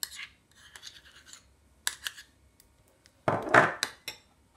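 Butter and cheese spread being mixed in a bowl, a series of soft scraping strokes with a louder, rougher scrape near the end.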